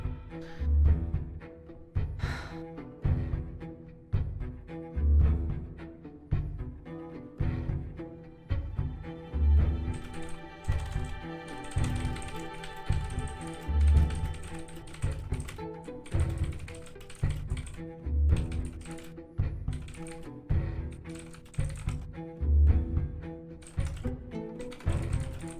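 Keys clatter on a computer keyboard in steady, continuous typing, with close, crisp clicks over a recurring low mechanical thump.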